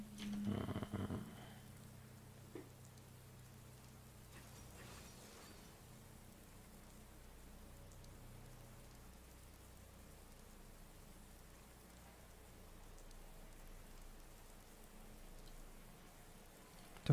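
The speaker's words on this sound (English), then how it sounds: "I clicked on the Skyrim OST and all of this is rain" Rain ambience from the Skyrim soundtrack plays as a faint, continuous hiss of falling rain, with a brief louder thump near the start and otherwise a quiet, even wash.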